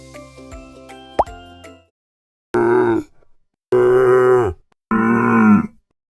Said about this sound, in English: Camel sound name is grunt grunt.